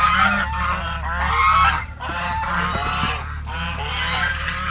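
Geese fighting honk loudly and continuously, their harsh overlapping calls rising and falling up close, with no talking.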